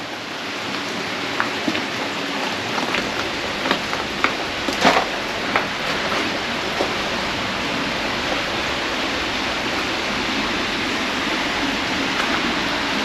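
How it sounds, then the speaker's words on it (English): Underground waterfall pouring inside a West Coast New Zealand coal mine tunnel, a loud continuous splashing roar with a few sharper drips and splatters early on, steady and unbroken with no talking. "There it is, there's a waterfall in here."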